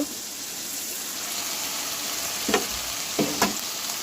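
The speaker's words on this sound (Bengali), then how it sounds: "মশলা কষানো হয়ে গেছে এখন মাছ দিয়ে দেব" Pieces of fish hiss and sizzle in a pan of spiced masala, a steady close frying crackle broken by a few sharper spits and stirring scrapes.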